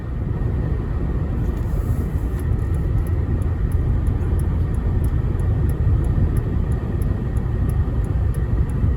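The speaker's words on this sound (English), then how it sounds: "Very quiet and comfy on the freeway. About 65 miles an hour." From inside a 2006 Mercedes-Benz E350 W211 cruising on the freeway at about 65 mph comes a constant low rumble of road and wind noise, steady and unbroken throughout.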